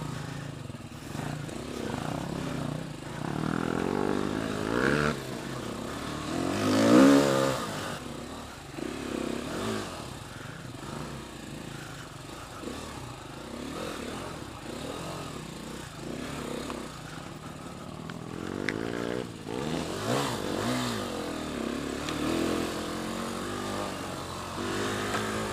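A dirt motorcycle ridden on a technical muddy clay track, its engine droning and revving in waves, swelling loud around the middle and again near the end.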